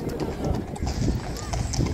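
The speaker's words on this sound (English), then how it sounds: "Here are the horses coming by." Horses' hooves clip-clop past on a street at Blackpool Illuminations, a brisk clatter of hoofbeats mixed with crowd noise while a person talks nearby.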